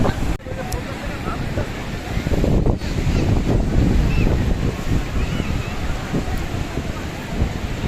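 Sea waves at Sugandha beach in Cox's Bazar surge and wash in a steady roar, with wind buffeting the microphone and a person talking over the surf.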